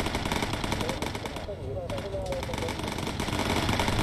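Machine gun fire from the video game Bomber Crew, a steady rattle of rapid shots running throughout, loud and continuous, with a voice talking over it.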